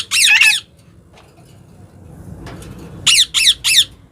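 Hill parrot held in a hand in a shed, giving one harsh loud squawk burst, then quieter rustling and handling, followed by three rapid raucous squawks close up.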